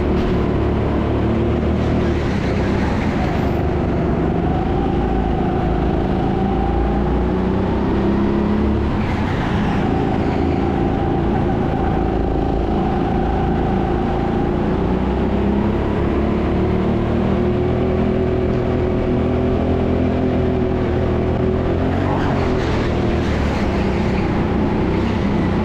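Go-kart engines at the TeamSport Sheffield indoor track, a continuous close, loud motor drone with shifting pitch as the kart accelerates and brakes through corners, no talking.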